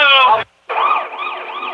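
Ambulance siren wailing loudly on a medical emergency run, a sweeping up-and-down tone broken by a brief gap before it resumes.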